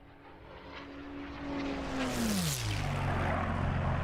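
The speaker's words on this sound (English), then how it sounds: "I love the sound of that engine." A propeller-driven aircraft makes a low flyby in a Schneider Trophy event, its engine drone swelling louder as it approaches and dropping sharply in pitch as it passes, continuing as a steady roar with no talk.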